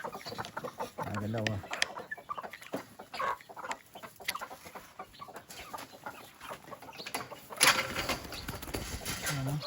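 Chickens cluck in repeated short bursts close by, with a brief flutter of wings, while people talk over and between the calls.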